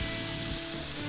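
Spices fry in a pan as a splash of nettle cooking liquid hits them, giving a steady, close, dense sizzle that holds for about a second with no talk.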